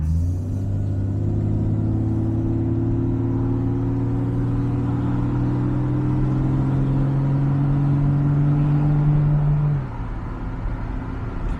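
A Jaguar XJS V12 with slight modifications pulls up to around 3,000 RPM, its deep engine note rising steadily under load for about ten seconds before easing off, loud and close with no talk.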